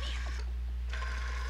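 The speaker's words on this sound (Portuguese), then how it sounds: "Telefone." A telephone rings in the horror video game Siren: New Translation, giving two close, bright electronic ring bursts separated by a short pause, over a steady low background hum.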